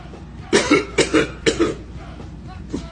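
A person coughs several times in a quick cluster, then once more after a short pause, close up and harsh.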